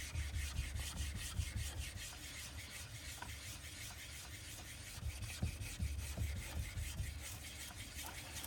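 A stainless steel blade ground on a wet sharpening stone, a steady rasping scrape in repeated strokes, close and faint, with no voices.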